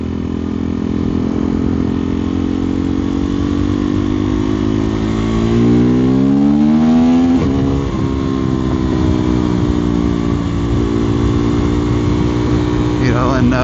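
A KTM Duke 390 Gen 3 motorcycle exhaust rumbles loudly at close range, with rising and falling revs over a steady idle and someone talking throughout.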